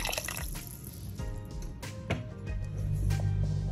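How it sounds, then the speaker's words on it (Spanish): Water poured from a plastic bottle into a pot of chicken soup, a continuous splashing, trickling flow with small drips, close and moderately quiet, growing a little fuller toward the end. "Ahora voy a ir añadiéndole agüita de la buena."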